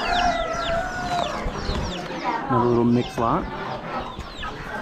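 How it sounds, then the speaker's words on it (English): Chickens at an Amish animal auction, including mixed hens, roosters and silky frizzle crosses, give repeated clucks and short crowing calls, fairly close, while someone talks over them. "And a couple of hens."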